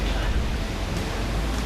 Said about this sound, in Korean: 3, 4m 이상을 오르내리는 심한 파도 속에서 입항 도선이 과연 가능할 것인가?